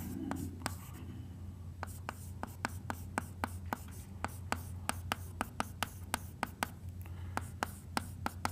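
Chalk or marker strokes on a classroom board during a seventh-grade maths lesson on adding and subtracting time units, a steady series of sharp, close taps and scrapes over low room hum.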